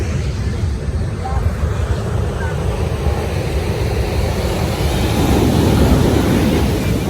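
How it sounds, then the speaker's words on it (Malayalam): Sea waves roaring and crashing on a Goa beach, a continuous broad rumbling wash that swells louder toward the end, with wind buffeting and voices talking nearby. "ആർത്തിരുമ്പി വരുന്ന കടൽ"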